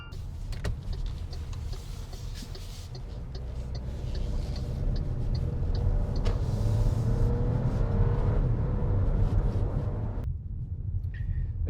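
An MG HS SUV in sport mode accelerates steadily, its engine note building and holding a sustained low drone, heard from inside the cabin, before easing off near the end.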